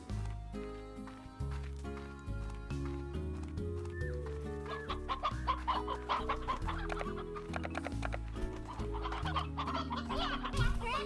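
Rooster clucking from the video game Slime Rancher, with repeated short fowl calls mixed into a steady backdrop of bright game music throughout.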